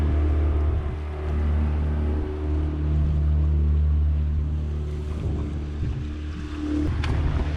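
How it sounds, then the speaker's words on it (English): Boat engines on a sailboat in open ocean warm up and run as a steady, loud low drone that stays constant throughout, with wind and water noise over it. "I gotta warm up these engines and we're getting going straight away"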